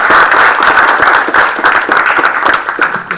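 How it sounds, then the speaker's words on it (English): Hearty applause from a council meeting audience for schoolchildren in a kids' outreach program: dense, sustained clapping at close range, steady throughout with no speech. "Let's hear another round of applause for them."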